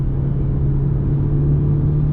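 Fiat Toro Freedom 1.3 T270 pickup accelerating at full throttle in sport mode, heard from inside the cabin as a steady low engine drone and rumble with a constant hum.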